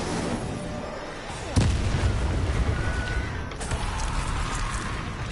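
Incendio fire spell cast in the video game Hogwarts Legacy, a sudden loud whooshing burst of flame that erupts partway through and keeps roaring in a dense crackling rush, with faint game ambience before it.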